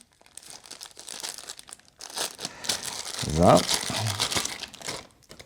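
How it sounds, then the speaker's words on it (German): Plastic crinkling and rustling as a bag is pulled off a new airsoft gun, loud and close, with a brief spoken word in the middle. "Erstmal muss ich mal diese Tüte hier entfernen"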